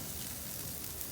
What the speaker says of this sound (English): We're getting a great sear on these things.